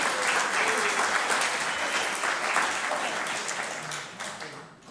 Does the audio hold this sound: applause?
yes